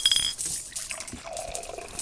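Rum poured into cups, a continuous watery splash and trickle with faint glassy clinks, close and steady throughout.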